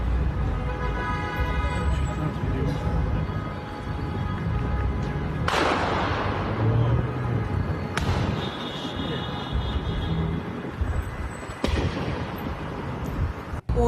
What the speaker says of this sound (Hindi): यहाँ पर जो गूंज सुनाई दे रही है धमाके के बाद